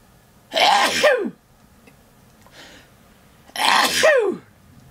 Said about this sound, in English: That sneeze there.